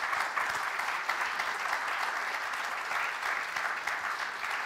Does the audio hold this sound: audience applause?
yes